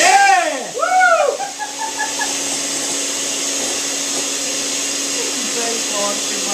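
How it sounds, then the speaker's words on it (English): Electric mixer on its turbo setting whipping to stiff peaks, a steady loud whine that runs throughout, with excited voices over its start. "That's what we need. The power. Turbo."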